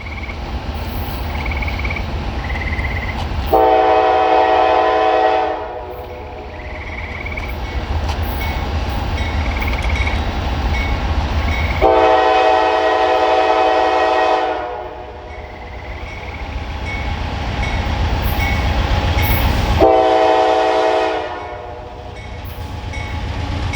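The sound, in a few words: freight train passing with horn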